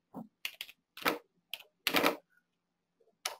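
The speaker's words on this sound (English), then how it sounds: "I'll just type in" Typing on a computer keyboard while using embroidery design software, a few sparse clusters of close key clicks separated by silences, quiet and alone.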